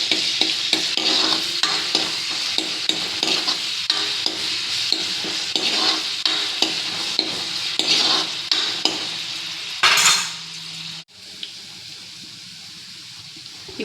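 Curry leaves and onions frying in hot oil for aloo pachi masala curry, a steady close sizzle with repeated scraping and stirring strokes of a spoon against the pan, ending in a sudden louder hiss before dropping away.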